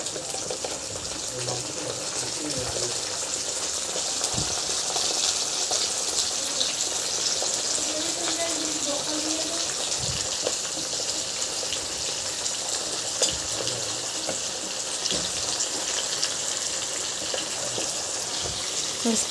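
Cut eggplant sizzling and frying in a pan with golden-brown onions, a steady, loud hiss of oil that continues evenly throughout with faint clatter underneath.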